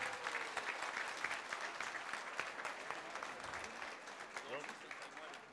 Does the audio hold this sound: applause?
yes